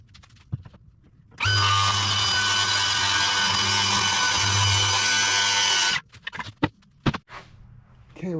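A power saw cuts wood along a guide bar for about four and a half seconds, a loud continuous whining buzz that starts abruptly and stops sharply, with scattered clatter and handling knocks after it.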